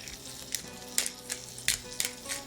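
Steady sizzling of food frying in a pan, crackling throughout with several sharper spits and pops, close and fairly loud, no voices.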